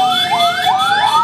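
An ambulance siren escorting a convoy of marching Aremania supporters in Malang wails close and loud, its rising sweeps repeating steadily about three times a second with no voices over it.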